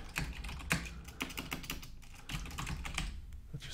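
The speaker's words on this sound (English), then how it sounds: "Let's just type in a small little comment there." Fingers type a short comment on a computer keyboard, a steady run of close, quick clicking keystrokes with small irregular pauses and no voice.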